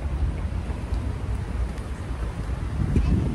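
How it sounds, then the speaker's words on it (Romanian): Steady low wind rumble buffets the microphone outdoors, a constant gusty roar that swells slightly near the end. "cât de rău bate vântul. Cred că se aude pe fundal."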